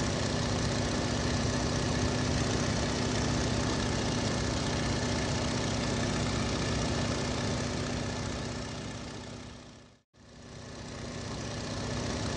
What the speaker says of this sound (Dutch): Licht vliegtuig.